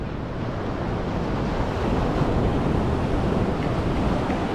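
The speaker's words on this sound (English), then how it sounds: "And we've got the surf here" Ocean surf washing onto a Sunshine Coast beach in Australia, a steady broad roar of breaking waves with some wind noise, continuous and fairly loud with no voices.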